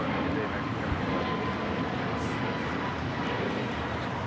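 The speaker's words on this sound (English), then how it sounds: "This is American Airlines 1711 taking off to Washington Reagan National on the A321 Neo" An American Airlines Airbus A321neo jet takes off at LAX, a steady, broad roar of engine noise filling the whole stretch, with people talking faintly underneath.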